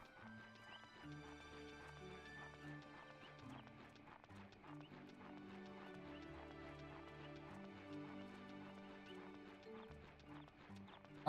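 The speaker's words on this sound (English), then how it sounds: "you'll be mounted on a horse, and you can go a lot faster through these areas" Steady clip-clop of horse hooves as a mounted rider moves in Suikoden III, an even trotting rhythm beneath looping game music, with no talk.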